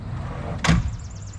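A single solid door thud on a Kubota SVL 75-3 compact track loader cab, a short, fairly close impact rising out of low background rumble and then fading quickly.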